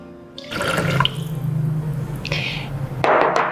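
Tamarind mixture pours into a Thermomix bowl with a simmering basket insert over the mixing knife, a steady close liquid splash lasting a couple of seconds, followed by a brief clatter and a second splash.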